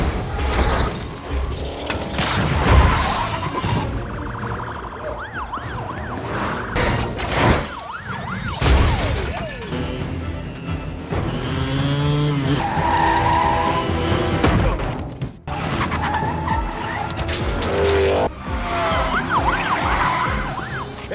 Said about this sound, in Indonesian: hantaman berangkas tidak sedikit mobil polisi dan mobil lain yang hancur